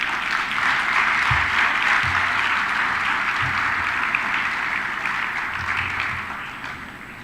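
Audience applause follows a speech at a military literature festival at Sukhna Lake in Chandigarh, a steady, full round of clapping from a large crowd that fades toward the end.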